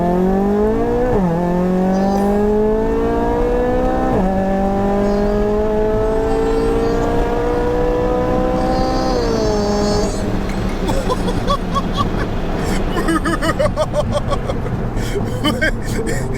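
An 800bhp Volkswagen Golf R pulling hard at full throttle, heard from inside: a loud, rising engine roar climbing through several gears with sharp shift breaks, then road and wind noise.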